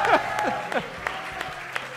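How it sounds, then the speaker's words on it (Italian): Scattered applause at a high school event, a handful of separate claps spaced out over two seconds beneath a voice that is speaking. "Vi ringrazio e vi saluto con un applauso generale"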